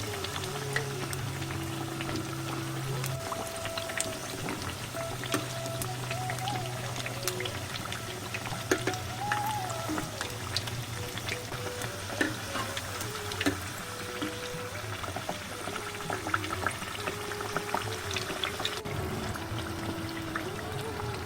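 Bathua and potato kachori fry in oil over a low gas flame, giving a steady, dense bubbling crackle with fine popping that runs evenly throughout and stands alone.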